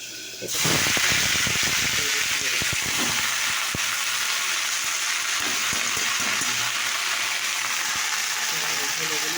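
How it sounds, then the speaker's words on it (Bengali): Red spinach and potato tossed into hot oil with garlic tempering, a sudden loud sizzle bursting in and holding steady with crackling pops and spatters close by. "এ দেখো তেল আর রসুন ফোড়ন দেওয়া হয়েছে। আর এদিকে দেখো লাল শাক আর আলু দিলাম"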